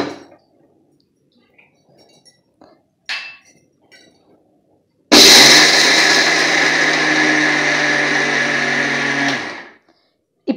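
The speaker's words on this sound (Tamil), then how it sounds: "இப்போ வறுத்து புடைச்ச நிலக்கடலையை மிக்சியில் போட்டு அரைச்சிக்கலாம்." A mixer grinder whirs loudly as it grinds roasted, husked peanuts, starting abruptly after a few quiet clinks and running steadily for about four seconds before winding down.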